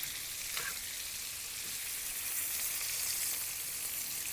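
Steaks sizzling in a pan as they are basted steakhouse style in brown butter, a close, dense, unbroken hiss of frying fat with occasional faint spoon scrapes, no talking.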